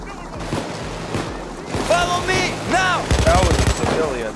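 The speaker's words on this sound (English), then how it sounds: "I just sniped you with this minigun" A minigun fires in the Payday 2 video game, a loud burst of rapid fire under and between people talking, with whirring tonal sweeps and a final dense stretch of shots.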